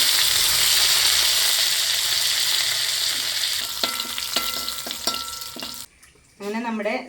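Dried red chilies and curry leaves crackle in hot coconut oil with a loud, steady sizzle that breaks into sharp popping bursts, then drops briefly before a voice speaks at the end.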